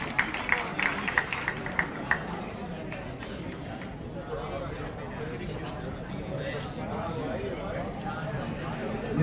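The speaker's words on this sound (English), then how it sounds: "A big round of applause for Ms." Applause for a graduate receiving a degree at the Sukkur IBA University convocation, a steady crowd clapping that holds for several seconds, with a few sharper claps at the start and talk mixed in.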